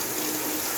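Water rushes steadily out of a newly connected PPR pipe, a brief, loud, continuous flow with no talking.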